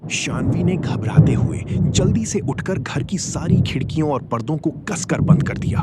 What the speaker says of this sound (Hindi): बाहर कड़कती बिजली और तेज बारिश की आवाज सुनकर उसका दिल और तेज धड़कने लगा।